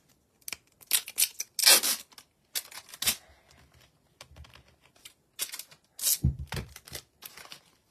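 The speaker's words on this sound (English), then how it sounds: "Grab some more tape." Packing tape is pulled off the roll in quick ripping strips and torn, crisp and close in a quiet room, with short gaps between each pull.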